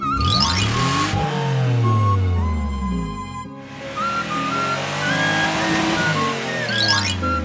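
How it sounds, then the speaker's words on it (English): A police car engine revs loudly and alone, rising and falling in continuous, changing surges with no talk. "Police car."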